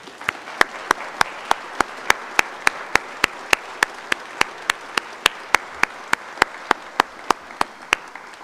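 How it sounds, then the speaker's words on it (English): Slow, evenly spaced claps ring out one at a time, roughly three per second, in a rhythmic beat rather than a dense ovation, at a year-end animation and visual effects student screening. "let's give one final round of applause for the amazing"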